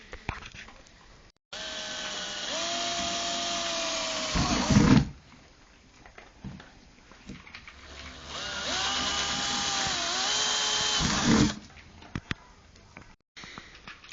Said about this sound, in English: we're drilling 6mm holes everywhere that we marked it using a battery drill